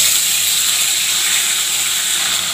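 Water pours into a cooking pot of spiced curry base with ginger paste, a steady, close hissing gush that holds evenly throughout, with no talking.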